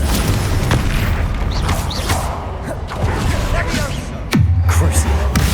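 Bombarda spell blast in Hogwarts Legacy, a booming burst with creaking, whooshing effects and a deep rumbling tail, loud and close among other game sounds.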